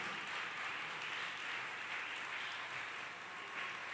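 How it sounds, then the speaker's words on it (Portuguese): A church congregation applauding during a sermon, faint, steady clapping at a distance that carries on evenly with no voices over it. "pode aplaudir o Senhor"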